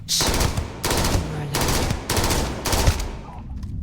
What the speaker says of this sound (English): After introductions, I shoot my way through the cave, as Andreja and Sarah follow me to the next